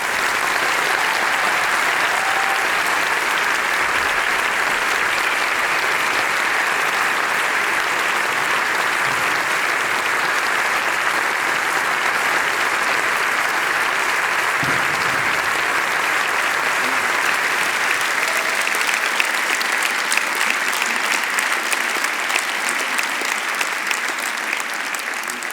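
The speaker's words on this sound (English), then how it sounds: "may I have a huge applause for the one and only Francesca" Large lecture audience gives sustained, dense applause for Francesca Albanese at the Dries van Agt lecture, a steady loud roar of many hands that holds evenly throughout with no speech over it.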